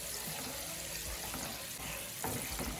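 Butter browning in a pan for oatmeal chocolate chip cookies gives a steady, close hiss of frying under soft scraping from constant stirring.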